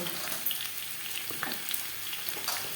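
Potatoes frying in oil in a pan, stirred with a spatula: a steady close sizzle with scattered scraping knocks and small pops, no voices.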